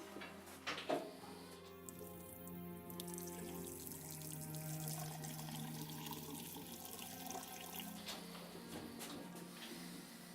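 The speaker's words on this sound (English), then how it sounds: "Pour the water in the basin." Water pours steadily into a basin for a hydropathy treatment attended by a nurse, a continuous splashing and trickling stream running for about ten seconds after a brief knock at the start, close and fairly quiet.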